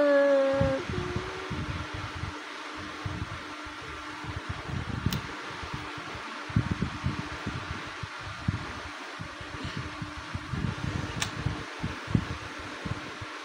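An air conditioner runs with a steady, low, even whir in an indoor room, with scattered soft rustling and knocking nearby.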